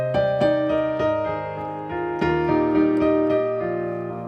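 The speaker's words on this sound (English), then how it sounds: "the first technique is what I call interval rocking, and it sounds like this" Piano notes alternate quickly between two pitches in a steady rocking pattern, the harmony shifting every couple of beats, played up close and clear.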